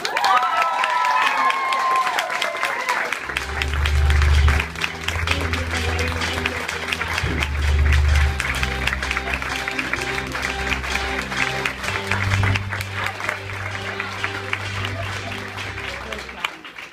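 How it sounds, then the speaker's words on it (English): Sustained applause and cheering from a large crowd at a motivational talk, loud and dense throughout, with shouts rising above the clapping and a low rumble underneath. "I want you to give a huge round of applause"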